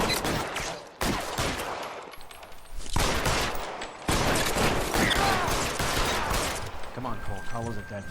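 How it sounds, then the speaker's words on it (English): Sustained gunfire in the video game LA Noire, loud, dense volleys of shots filling nearly the whole stretch with brief gaps, then softer mechanical clatter and a tonal hum near the end. "Ai, ai, mais tiroteiro"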